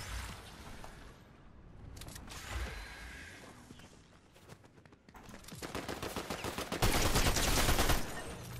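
SMG fire in Fortnite, rapid bursts of automatic gunshots at close range, loud and dense, broken by a quieter stretch midway before a long sustained volley near the end.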